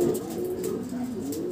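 A winning racing pigeon coos softly nearby, a few low rolling calls over faint background noise.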